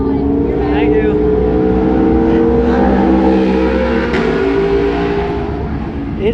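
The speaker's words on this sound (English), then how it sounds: "We're honoring the fallen by burning some rubber for them" A motorcycle on brand new tires doing a burnout, its engine holding a loud, steady high rev throughout, with a continuous roar and harmonic drone and people talking over it.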